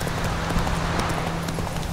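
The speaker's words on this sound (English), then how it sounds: "Come on, just keep running, horse." A horse gallops at a steady pace in The Witcher 3, its hooves thudding in a continuous rhythmic clip-clop that stays loud and close throughout, with no talking over it.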